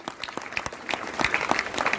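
An audience applauds at a motivational business gathering, with steady, dense clapping from a crowd that continues throughout at moderate volume.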